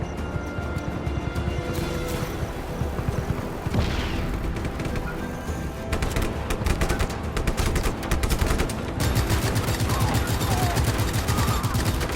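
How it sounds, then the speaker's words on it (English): A rapid-fire minigun in the video game Just Cause 3 roars almost continuously, loud and close, with explosions and crashing game sounds layered over the dense mechanical stream of shots. "this minigun doesn't get overheated."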